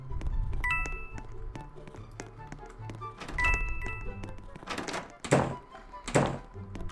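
A door closes in a murder mystery video game with several hard thunks and taps, the last few louder and sharper, under game music and chatter.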